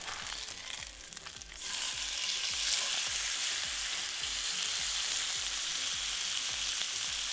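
An A5 Japanese wagyu ribeye steak sizzles in a pan just after being flipped, a close, loud hiss that surges and then holds steady, with a faint rhythmic low thumping beneath and no talk.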